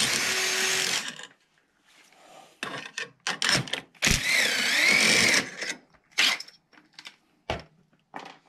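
Power tools strip nuts off the ends of vehicle radius rods in loud, whirring bursts of varying length, separated by pauses and sharp metallic clanks close by.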